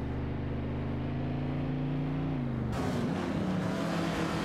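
Racing car engines in an AI racing game, including a Lamborghini 400 GT, drone loudly and steadily; the pitch drops partway through, then a harsher, wider roar takes over.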